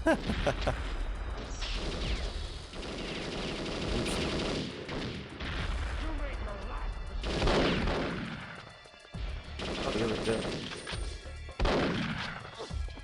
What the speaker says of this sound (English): And then the explosion happens.